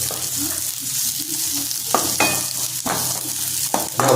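Spicy Andhra-style raw mango chutney with onion and chilies sautéing lightly in a pan, a close continuous sizzle broken by repeated scraping stirs of a spatula.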